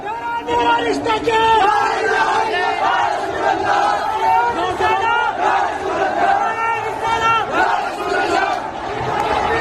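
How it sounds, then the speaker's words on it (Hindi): A large crowd in Ghaziabad chants slogans in loud, rhythmic unison, many voices shouting together continuously and close by with no pauses. "ये देखिए, ये कैसे भीड़ ने सर तन से जुदा के नारे लगे।"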